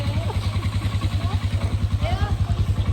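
A quad bike engine idles and revs with a steady pulsing throb, close by, while people chat and laugh over it during an outing in Bali.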